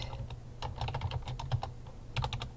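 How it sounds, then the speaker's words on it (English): Typing on a computer keyboard to enter a date into a form, with quick bursts of close, crisp key clicks, a pause, then a final flurry of taps. "So you would just type in like date."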